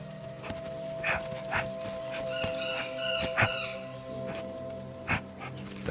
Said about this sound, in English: The cry of a bird alerts them.